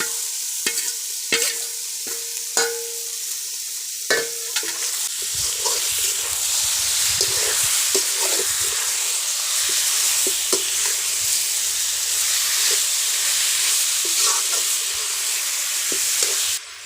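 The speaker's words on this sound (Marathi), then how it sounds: "इथे सगळं मोरीचं मटण जे आहे ते वर घालून घ्यायचं" Shark meat (mori) is tipped onto roasted onions and stirred in a pot over a wood-fired clay stove. A few sharp utensil knocks come first, then a steady, close sizzle with scraping stirs fills the rest.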